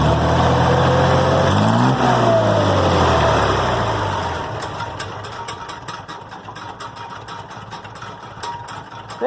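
A GMC 305 V6 fitted in a Cockshutt 40 tractor idles steadily and close by, with a brief rising and falling rev near the start before settling into a quieter, even low rumble.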